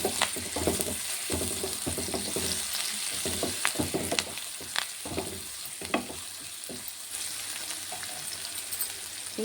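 Ginger garlic paste fries in a pan with a dense, crackling sizzle, broken by repeated scraping and stirring strokes close by, continuous throughout with no talking.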